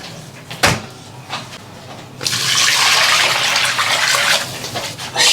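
Pork belly rinsed under a running kitchen tap after blanching, a steady broadband rush of water starting partway through after a few faint knocks and clatters, continuing evenly to the end.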